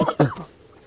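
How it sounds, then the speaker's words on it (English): Several Kingdom Hearts II characters cough together in unison, a short burst of two or three rough coughs close up, with a faint throat-clearing tail that fades out. "Oh, unison coughing."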